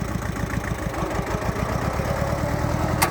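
A farm tractor engine idles and runs in a steady, low, throbbing drone with a regular pulse, close and continuous throughout, with no talk over it.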